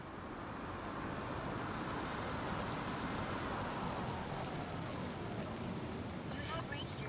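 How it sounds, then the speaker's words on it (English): Steady, dense rain from the video game Detroit: Become Human pours without pause, a constant hiss of drops on surfaces filling the whole stretch at an even level. "It's like it just hasn't stopped raining at all."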